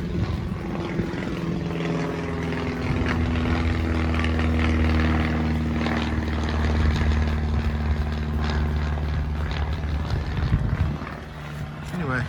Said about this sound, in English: A little plane flying over us up